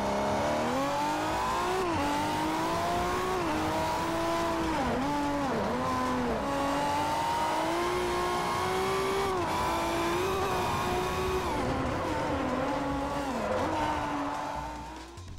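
Suzuki SX4 Hill Climb Special racing around Fujimi Kaido in Forza Motorsport 4, a loud high-revving engine wailing continuously through quick gear changes and dips for corners, close and unbroken.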